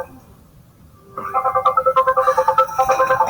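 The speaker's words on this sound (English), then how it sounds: "My phone is ringing." A mobile phone starts ringing in a classroom, its ringtone a loud, rapidly pulsing electronic melody that repeats steadily after a quiet start.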